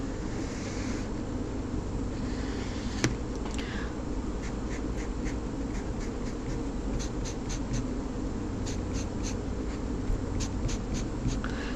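Pen scratching across paper while sketching a graph, with soft continuous scribbling and short, repeated strokes under steady background noise, close and quiet.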